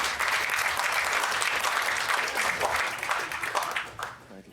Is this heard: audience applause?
yes